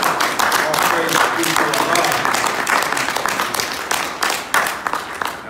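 An audience at a speech by Minister Tony Muhammad breaks into applause, with dense, loud clapping that holds steady for several seconds and then begins to thin out.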